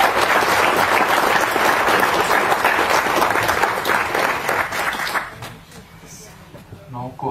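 Audience applause welcoming the speaker to a lecture for young athletes, coaches and parents: loud, dense clapping from a sizeable crowd for about five seconds, then fading out as a voice begins.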